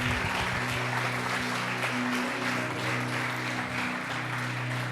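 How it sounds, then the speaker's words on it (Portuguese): A church congregation claps loudly during a service, dense applause running throughout over a sustained low musical drone from instruments. "Aplaude Jesus bem forte."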